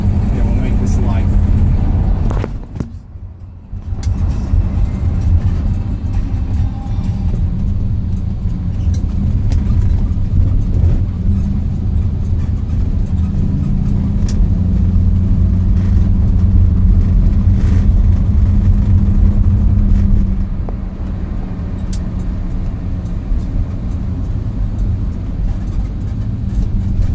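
Interior rumble of a 1973 Ford Maverick with a fuel-injected 302 V8 being driven, a loud steady low drone with a brief dip near the start, heard close under someone talking.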